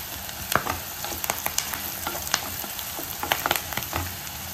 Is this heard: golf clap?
no